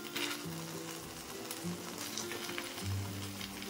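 Ghee goes into a pan of cooking jaggery sweet, giving a soft, steady sizzle and bubbling that stays fairly quiet throughout, with no voices.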